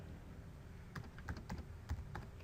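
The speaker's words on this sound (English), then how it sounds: "I'm just going to start typing Sydney." Soft, quiet keystrokes click on a keyboard in a short irregular burst after a moment of near silence, with no speech.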